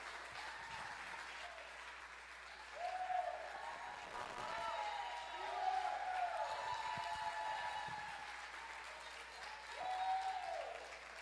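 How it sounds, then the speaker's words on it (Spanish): A church congregation gives sustained applause during a service, the clapping swelling and easing in waves at a moderate distance, with faint voices and tones sounding beneath it. "Recibámoslo con un fuerte aplauso en el Señor."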